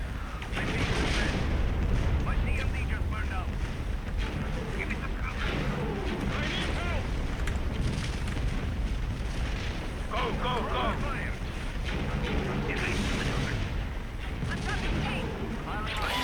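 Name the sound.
Imperial ships firing blue lasers in a Star Wars video game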